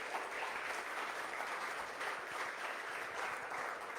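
A church congregation claps together during a sermon, a dense, steady wash of many hands heard from a moderate distance, sustained evenly throughout with no voices standing out.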